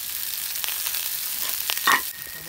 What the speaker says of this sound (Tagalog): Then brown na yung ano natin, mga bawang, onion at lagyan na natin yung ating tirang kanin